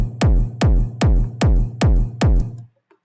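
Six evenly spaced kick drum hits, a clean kick blended in parallel with a heavily distorted copy, each a loud booming thump with a gritty sustained tail, playing alone.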